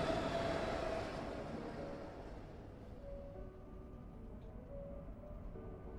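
A video-game train rolls along with a low, continuous rumble of wheels and carriage, a louder rush at the start easing into a steadier hum with faint tonal whines, no voices.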